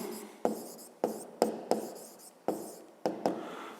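Pen or marker strokes writing out a geometry solution for a 5th-grade maths exercise, a series of about eight sharp scratchy taps and strokes in uneven rhythm, close and fairly quiet, with no talking.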